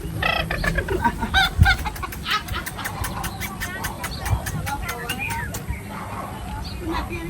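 A rooster clucks repeatedly in close, rapid bursts while people talk nearby.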